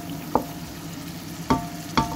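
Ingredients frying with fish sauce for a batchoy, a low steady sizzle broken by three sharp utensil knocks against the pan as the mixture is stirred.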